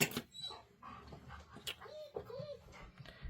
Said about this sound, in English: if you can hear my dog being pathetic in the background